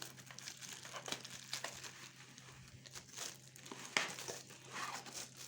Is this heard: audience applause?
no